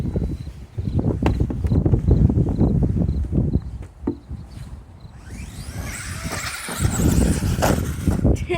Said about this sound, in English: It did a wheelie all the way to the jump and then hit the jump and then landed.